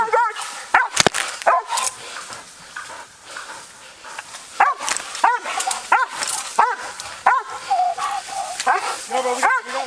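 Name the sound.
police dogs barking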